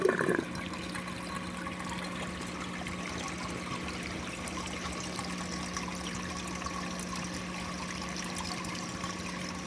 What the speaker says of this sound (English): Perfectly quiet Durso overflow standpipe.